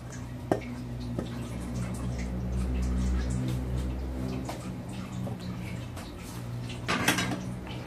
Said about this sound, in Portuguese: eu raspo toda a minha panela